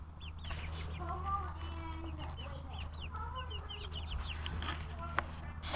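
Several chickens cluck and chirp close by in short, scattered calls over a steady low hum.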